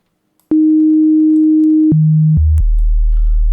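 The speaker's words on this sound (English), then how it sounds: "So let's choose a sine wave, obviously, in the sub oscillator." Pure synthesizer sub oscillator sine tone built for a sub bass or 808, starting suddenly and holding steady, then stepping down twice to lower pitches before settling on a deep, loud sustained low note, with no voices.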